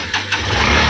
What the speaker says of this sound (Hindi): बाइक से चल रहे हैं हम लोग।